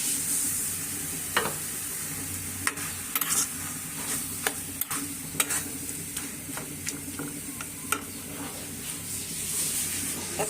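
Dried chilies and loitta shutki paste fry in a hot pan, a loud continuous sizzle broken by repeated scraping stirs and clatters of a spatula.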